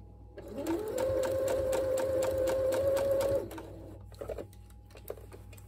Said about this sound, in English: And as you're sewing, just follow the previous sewing line,